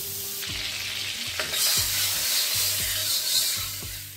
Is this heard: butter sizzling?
yes